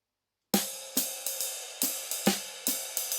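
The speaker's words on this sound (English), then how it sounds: "And then we're going to have snare on beat one." Drum kit ride cymbal and hi-hat pattern with a snare hit on beat one, steady repeating strokes in a swung rhythm, close and clear with ringing cymbal wash.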